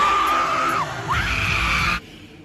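A crowd screams loudly at a concert during a song, a sustained, piercing wall of shrieking voices with a rising yell in the middle, cutting off abruptly near the end.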